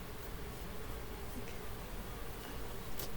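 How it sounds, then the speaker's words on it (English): Honeybees buzz around their hive in a soft, steady, continuous hum, with a few louder passes of individual bees near the end and no voices. "Yep, those are my bees."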